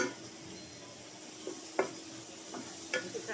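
Bird meat fries quietly in a pan, a low sizzle broken by a handful of sharp scrapes and knocks from a spoon against the metal.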